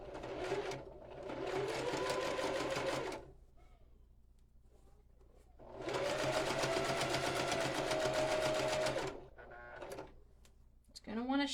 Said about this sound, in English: Back stitching isn't necessary, but it's just kind of ingrained in me, so I'm just going to sew all the way down.